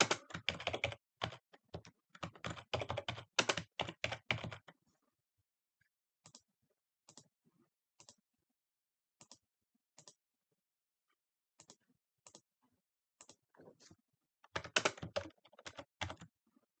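Keys clatter on a computer keyboard while fund records are entered, with dense bursts of fast typing at the start and end and sparse single keystrokes spaced out in the quiet middle stretch.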